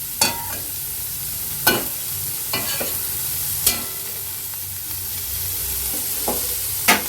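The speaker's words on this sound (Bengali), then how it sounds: "এটা 30 সেকেন্ডের মতো নেড়ে চেড়ে নিয়ে" Chicken stew ingredients are stirred in oil and butter in a pan, with a steady low sizzle broken by several sharp, close scrapes and clinks spaced irregularly, and no talk.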